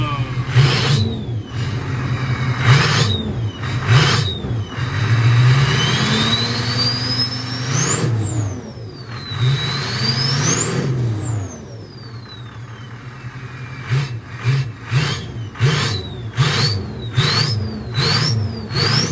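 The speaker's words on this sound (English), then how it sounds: "I'm gonna give it just a couple of revs for you all." A hood-stacked Ford 6.0 Power Stroke diesel truck, warmed up, is revved several times, each loud rise and fall of the engine sweeping up and back down, with a burst of quicker blips near the end.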